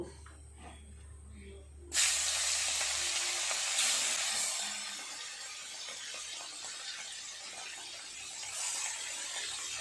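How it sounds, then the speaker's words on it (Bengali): Pieces of a large fish go into hot oil, and a loud sizzling hiss bursts in and then continues steadily at close range after a quiet start, with a few surges in intensity. "তেল ভালোভাবে গরম হয়ে গেছে এক এক করে মাছ দিয়ে দেব"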